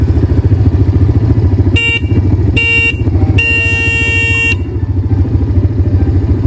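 Over a rumbling idling ATV engine, the ATV's horn honks three times: two short beeps followed by a longer blast.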